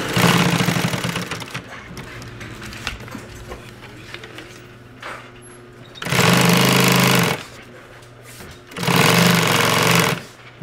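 A sewing machine stitches Velcro onto a handmade belt, running in loud, fast mechanical bursts of about a second or two, separated by quieter pauses.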